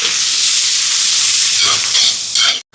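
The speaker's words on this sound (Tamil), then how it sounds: "இப்போ வெங்காயம் எல்லாம் வதங்கி வருது. இஞ்சி பூண்டு பேஸ்ட் கொஞ்சம் சேர்ப்போம், கலந்து விடுவோம்." Onions with ginger garlic paste sizzle and hiss steadily in a pan, loud and close, with faint stirring scrapes near the end before a brief cutoff.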